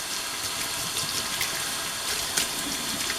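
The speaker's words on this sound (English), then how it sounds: "Let me rinse this out." Water runs steadily into a pressure cooker pot being rinsed, a continuous broadband rush with small splashy fluctuations, close and alone without talk.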